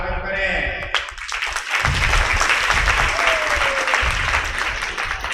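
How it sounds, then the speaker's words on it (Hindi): Audience applause rising at once and continuing steadily to welcome a revered speaker at a Krishna Janmotsav festival gathering, a dense, even clatter of many hands filling the space with faint voices beneath it. "हम लोग सहृदय कर्तव्य ध्वनि से पूज्य व्यास जी के स्वागत में 2 बार प्रेम से ताली बजा के इनका स्वागत करें।"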